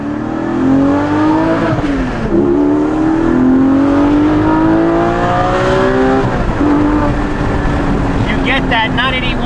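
A Porsche GT4 with a Valvetronic Designs exhaust and over-axle pipes revs hard through several rising gear pulls with shifts between them, recorded from inside with the windows down, loud and close under wind noise and occasional talk.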